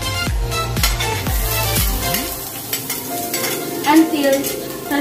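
Onion and garlic sautéing in a pan over medium-low heat, a steady close sizzle with stirring clinks and scrapes of a utensil against the pan, no voices.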